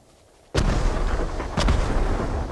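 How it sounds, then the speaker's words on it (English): Fireworks burst in the video game Ghost of Tsushima, with two heavy booms about a second apart over a loud, continuous rumble of battle. "More fireworks! On all sides!"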